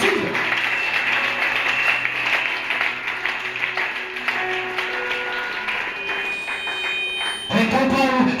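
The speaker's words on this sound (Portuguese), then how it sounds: "Aplauda o Senhor Jesus." A church congregation applauding during a sermon, a sustained loud wash of clapping from many people with music and voices mixed in, swelling again near the end.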